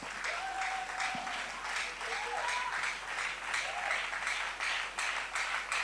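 A church congregation applauds in steady, dense clapping that holds evenly for several seconds, with a faint voice rising briefly above the crowd.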